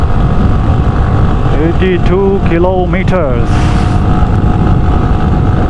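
A motorcycle engine strains loudly and steadily while climbing a mountain pass on a coastal ride through Balochistan, with a rising and falling whine through the middle and someone speaking over it.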